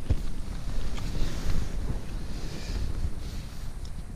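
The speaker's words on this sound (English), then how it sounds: "Bit of a wind getting up, so gonna be a bit breezy tonight." Steady wind gusts around a tent at a hillside wild camp, a constant rushing roar with buffeting swells and a couple of low thumps, close to the microphone with no talking.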